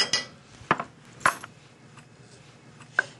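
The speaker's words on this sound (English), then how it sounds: "Just stir this until the butter's melted." A utensil stirs butter and horseradish into mashed potatoes in a pot for Thanksgiving, giving a few sharp metallic clinks and scrapes against the pot at close range, with no talk.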